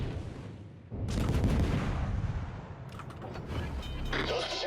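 Warship guns fire in a World of Warships naval battle, heavy booming salvos rolling in after a quiet start, loud and close with follow-up thuds, and a voice briefly heard over them.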